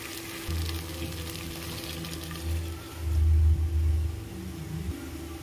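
Chickpea-coconut paste goes into a pan of frying potato kurma, a low bubbling sizzle with a muffled rumble that swells briefly midway as it is poured and stirred.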